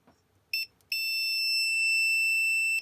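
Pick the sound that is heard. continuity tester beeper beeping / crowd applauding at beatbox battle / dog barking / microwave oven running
continuity tester beeper beeping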